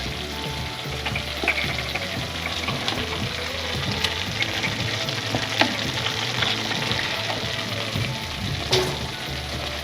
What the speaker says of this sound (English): So I'm going to add chicken to it right now.